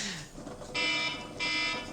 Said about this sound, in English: I'm going to set my timer.